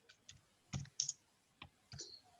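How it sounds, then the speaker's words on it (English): Computer keyboard typing in a room, a handful of separate soft clicks and keystrokes spaced irregularly, fairly quiet and close, with no talking. "my typing is awful"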